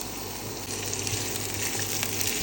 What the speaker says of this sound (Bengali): এখানে পেঁয়াজটা ভালো করে ভেজে নিব লাল লাল হওয়া পর্যন্ত